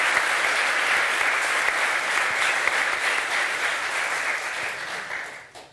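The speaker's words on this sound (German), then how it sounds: "Einen großen Applaus bitte für Maximilian Beister." A studio audience on a German sports talk show applauds a guest, a steady, dense burst of clapping that holds loud for several seconds before quickly fading out.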